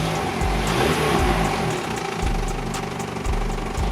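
A Vauxhall Corsa engine runs close by, its low rumble rising and falling in a few revs over a steady mechanical drone.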